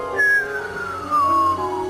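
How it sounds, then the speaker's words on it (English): A whistler radio signal produced by lightning, picked up on a receiver, sounds as a clear descending tonal whistle that glides steadily downward in pitch over about a second and a half against faint static hiss. "This is a strange kind of signal called a whistler."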